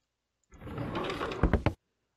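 A drawer slides open in a horror video game, a brief smooth scrape of about a second that ends in two or three sharp knocks, close and alone against silence.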